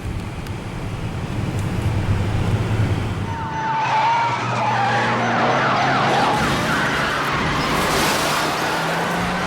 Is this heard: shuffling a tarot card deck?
no